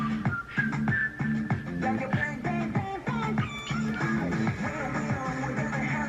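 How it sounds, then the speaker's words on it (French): A whistled melody with sliding tones rides over a rhythmic music backing with a repeating pulsing bass. "J'adore ce sifflement perpétuel."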